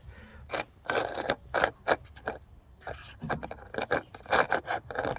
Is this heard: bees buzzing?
no